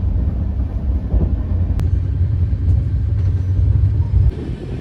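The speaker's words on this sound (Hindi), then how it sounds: "लगता है कोई पोस्ट ऑफिस की गाड़ी है।" A postal vehicle rumbling past, heard from inside a coach on the Udaipur–Jaipur train, as a loud steady low drone mixed with train motion noise, with no talking.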